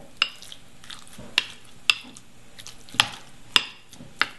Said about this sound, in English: Now I'm going to mix it with the ricotta